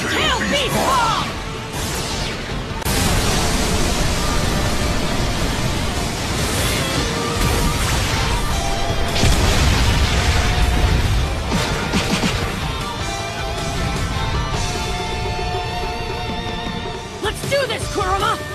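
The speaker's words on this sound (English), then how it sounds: "Tail Beast Bomb!" A Tail Beast Bomb blasts in a Naruto fighting game during a Fourth Ninja War battle, a loud, sustained roaring explosion with crashing noise that fills nearly twenty seconds, up close and overwhelming.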